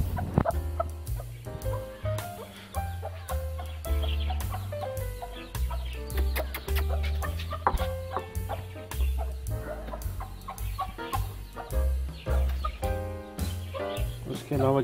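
Chickens clucking steadily at village feeding time, with overlapping bird calls and a loud low hum under them, while someone talks over the sounds.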